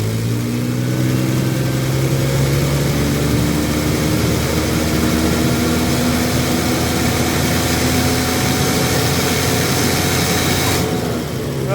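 A Nissan TB45 engine with severe low power revving steadily and loudly, its pitch rising and holding with a continuous mechanical roar, close by.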